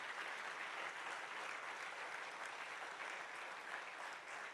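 A church congregation applauds in a steady, dense wash of clapping that holds evenly throughout, sounding somewhat distant and faint in a large worship space, with no voices on top.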